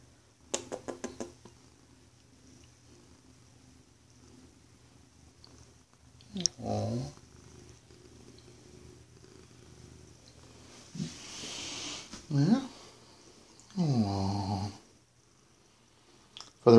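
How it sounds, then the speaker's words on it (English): A cat purrs loudly close by, a low rumbling drone that runs through most of the stretch with louder swells at intervals, alongside a few sharp knocks early on and a person speaking softly. "You're purring loudly."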